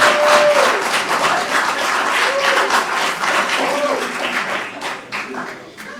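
Audience applause after a keynote address at an Africa-focused conference: dense clapping fills the room at steady strength, then thins and fades toward the end, with a voice briefly audible early on.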